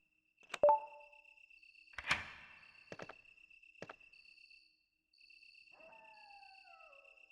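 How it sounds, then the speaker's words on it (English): Sparse cricket chirps in the video game Resident Evil Director's Cut, a thin steady high tone with scattered clicks and a few short sounds, quiet and alone. "When you hear the crickets, it's a good sign."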